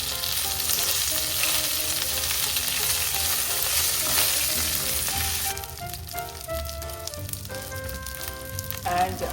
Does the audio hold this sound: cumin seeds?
yes